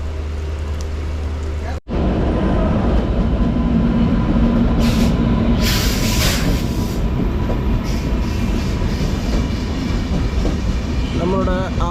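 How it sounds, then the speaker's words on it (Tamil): A train roars close by on the Konkan railway during the monsoon, with a loud, continuous rumble and wheel clatter that keep going through the whole stretch after a brief dropout near the start. "நம்மளோட ஆப்போசிட் ட்ரெயினுங்க"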